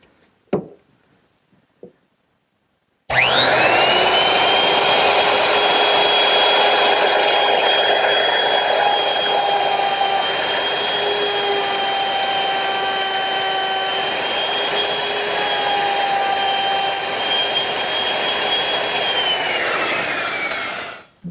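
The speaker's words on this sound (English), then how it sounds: "Now I'm going to use a OG bit, a 5/32 OG bit, which is equipped with a little ball bearing to guide it along the side of the piece" Router fitted with a 5/32 ogee bit with a guide bearing, molding the edge of a wooden piece in a woodshop: a loud, steady high-pitched whine runs for about eighteen seconds after a few faint knocks, then cuts off.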